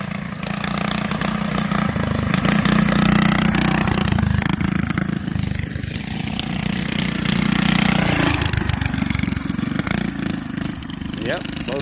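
Two homemade ATVs with Predator 212 engines putter and rev, their engine hum rising and falling as they move nearby, with a person talking over the steady drone.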